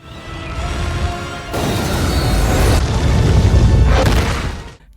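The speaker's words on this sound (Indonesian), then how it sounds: "Roket meledak dan menghanguskan Riot dan begitupun Venom" A rocket explodes in a Venom film scene, a loud, sustained roaring blast with layered booming bursts, a second surge midway and a final swell that cuts off abruptly, with no talk.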